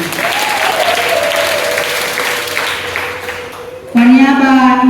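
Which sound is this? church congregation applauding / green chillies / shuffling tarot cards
church congregation applauding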